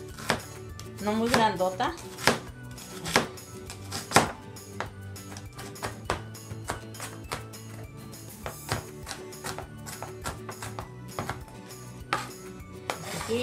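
A knife chops an onion on a cutting board in a home kitchen, with steady rapid taps and sharper knocks throughout, under someone speaking Spanish and light clinks of utensils.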